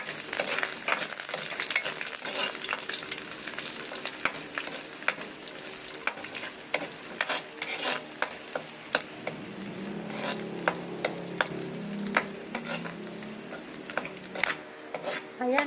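Unpeeled garlic cloves with their skins frying in hot oil in a pan, sizzling steadily with sharp crackles and spoon-stirring scrapes, louder bubbling near the end; nobody speaks.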